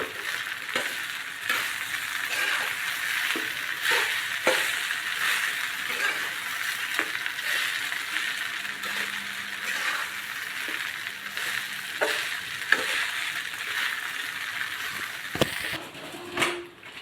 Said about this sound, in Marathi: थोडीशी कोथिंबीर टाकू व्यवस्थित मिक्स करून घेऊयात